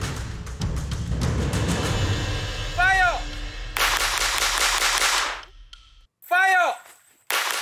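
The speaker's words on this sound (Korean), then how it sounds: "M1900에 총탄 7발이 든 탄창을 끼우고 사격 신호가 떨어지면 쏴야 한다" An FN M1900 pistol is fired on a range with a seven-round magazine, giving sharp loud reports in quick succession with a few bright ringing impacts, followed by a brief gap and a final burst.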